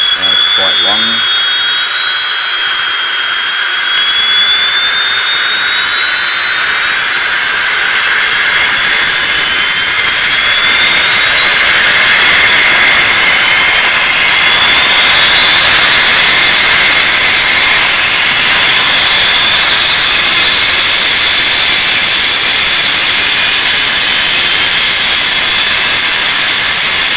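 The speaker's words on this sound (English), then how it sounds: "the turbine, that's in startup mode, it'll run up until it reaches idle" A Me 262 Benedini twin jet turbine sound set spools up from startup toward idle, its loud whine climbing steadily in pitch over a constant roaring hiss with no pauses.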